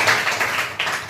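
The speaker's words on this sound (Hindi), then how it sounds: "तालियां बजा दो इसके लिए" A classroom of students clapping together, a loud, close, steady patter of many hands lasting about a second.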